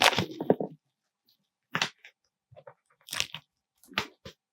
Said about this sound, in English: do get a little bit from the box shaking